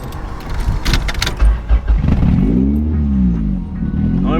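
A B-swapped Honda Civic's engine idles and then revs with a rising and falling tone close to the microphone, after a few thumps and rattles from inside the car.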